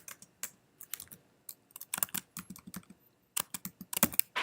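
Program code being typed on a computer keyboard, a close, quiet run of crisp key clicks in uneven bursts, with a few short pauses between groups of keystrokes.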